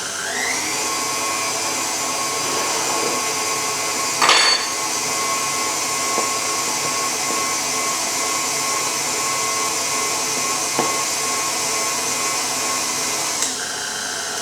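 An electric mixer whisks Swiss meringue for a cream cheese buttercream with a steady whirring motor hum, broken by a couple of brief knocks against the bowl.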